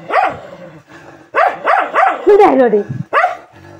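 A dog barks near a large house in a string of sharp, loud barks and yelps, with a person's voice mixed in.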